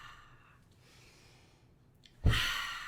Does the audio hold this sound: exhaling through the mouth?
yes